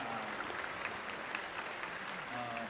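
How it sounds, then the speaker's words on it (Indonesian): Audience at a public education forum in Jogja applauding a woman who just spoke, steady crowd clapping with a faint voice underneath. "Tepuk tangan dulu untuk Mbaknya"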